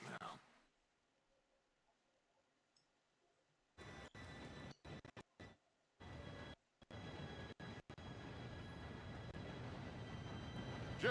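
A train approaches in the Red Dead Redemption 2 video game, a low rumbling roar that starts abruptly after a near-silent opening and swells steadily louder, broken by brief dropouts.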